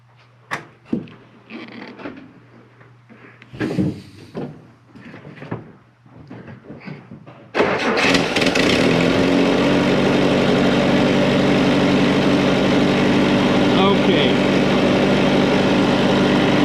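Generator engine at a well site, first a few knocks and handling clatter, then the engine catching and settling into a loud, steady running drone that continues to the end.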